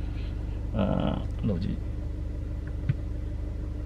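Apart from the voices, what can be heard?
Kia Seltos car AC fan blowing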